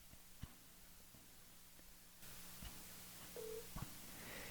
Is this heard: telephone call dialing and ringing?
yes